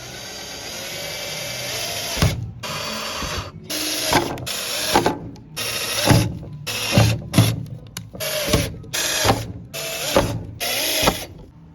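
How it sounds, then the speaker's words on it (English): A power drill whirs in repeated short bursts, biting through a hose with brief pauses between each hole, close and fairly loud. "Now I'm just drilling the hose to put the sprayers in."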